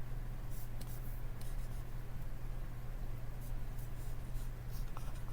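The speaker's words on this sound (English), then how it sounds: "I'll go over that with my dry erase marker to show you that it doesn't have to be rounded out" A dry erase marker squeaks and scratches faintly across a board in short strokes, heard close but quiet over a steady low hum.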